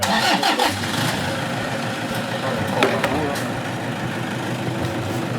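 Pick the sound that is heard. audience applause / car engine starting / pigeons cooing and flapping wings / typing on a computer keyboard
car engine starting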